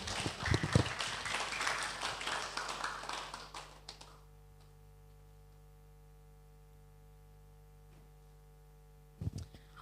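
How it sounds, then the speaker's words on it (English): An audience at a signing ceremony and public lecture gives a round of applause, a dense burst of clapping for about four seconds that fades out, then near silence with a steady mains hum and a brief knock near the end. "please give a big round of applause, everyone"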